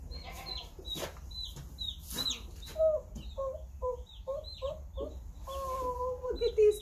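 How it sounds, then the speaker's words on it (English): Little chicks peep in rapid, high-pitched bursts, with a voice murmuring softly underneath. "Little chicks."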